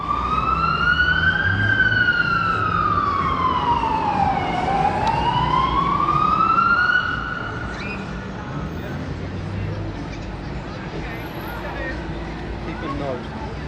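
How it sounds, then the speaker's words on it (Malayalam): A fire engine's wailing siren rises and falls as it passes along Queen Street in Auckland during a Christmas tree lighting. It is loud for about seven seconds, then fades into steady street and crowd noise. "ഇതിൻ്റെ ഇടയിൽ ഒരു ഫയർ എഞ്ചിൻ ചീറിപ്പാഞ്ഞ് പോകണ്ടായിരുന്നു"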